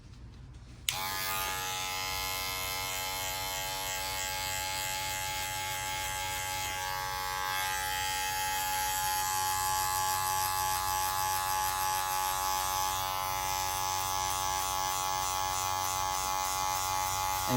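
Electric hair clippers with a number 1 guard, lever closed, buzzing steadily up close while cutting a skin fade; a sharp start followed by a continuous, even hum throughout, no talking.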